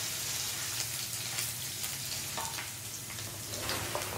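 Spices, curry leaves, ginger and garlic sizzle in hot oil for a Kerala-style moru curry, a continuous close crackling fry with scattered sharp pops.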